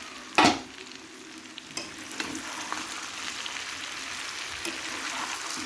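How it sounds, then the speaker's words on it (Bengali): A spoon stirs fenugreek greens and potato curry in a pan over medium heat, a sharp scrape at the start and then a steady soft sizzle with light occasional scrapes, close by and without talk. "একটু আমি নেড়ে চেড়ে দেব"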